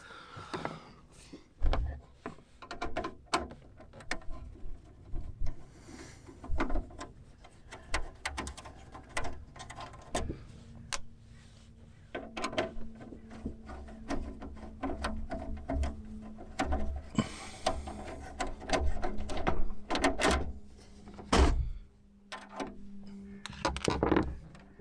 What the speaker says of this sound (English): I need to take these two screws out of here, which will allow me to drop the rain shield down and lift this up from here.